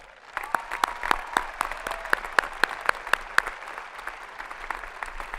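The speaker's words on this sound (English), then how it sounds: "Won't you please give these folks a round of applause?" Applause from a graduation ceremony audience in a large hall, a soft steady patter with sharper individual claps standing out, moderately distant and fading over about five seconds.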